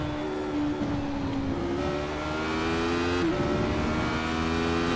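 A Radical SR8 race car at Donington accelerates with wheel spin, its engine a steady, loud, high-pitched drone that climbs in pitch, heard close and alone.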